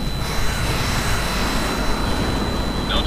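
Steady, loud roar of a Su-27 Flanker jet engine in Tom Clancy's H.A.W.X., a constant broadband rush that holds for the whole span.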